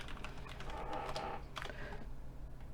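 Typing on a computer keyboard while entering a comment, a quick run of close, fairly faint key clicks with brief pauses between bursts.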